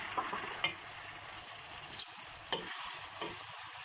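Diced peeled tomatoes sizzle gently in a pan while a utensil stirs through them, with a few soft scraping clicks against the pan.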